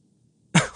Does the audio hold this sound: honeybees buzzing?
no